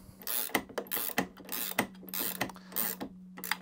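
Nut being tightened onto the wheel bolt of a lawnmower, a series of close, sharp ratcheting clicks and metallic ticks in irregular bursts, with no talking.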